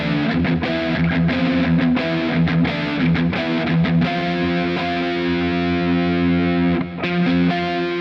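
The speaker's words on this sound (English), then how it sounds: "let's try the all pickup combined position with the push-pull" Fender Player Plus Stratocaster played with all pickups combined through the push-pull switch, a heavily distorted, effects-laden electric guitar strumming sustained chords, loud and close and continuous for several seconds, with no voices.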